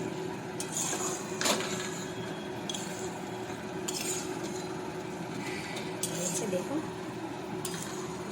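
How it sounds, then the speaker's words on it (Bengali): A gourd and prawn curry with garam masala being stirred in a pan: a spoon clinks and scrapes against the metal in scattered knocks over a low, steady background hum. "গরম মশলা দিয়ে ভালো করে একটু নেড়ে চেড়ে"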